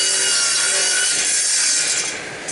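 A loud radial arm saw rips through wood, a dense continuous cutting roar that holds steady and then eases slightly as the blade finishes the pass.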